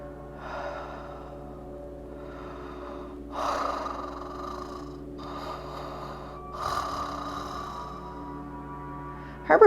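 A voice imitates a monster's heavy mouth-breathing pant, with several rasping breath bursts separated by pauses over a low steady hum.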